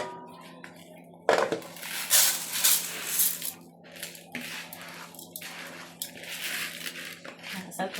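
Washed, drained rice is tipped into a tray already holding raw onion, giving soft wet squishes and light clinks of the tray close by, under a voice talking.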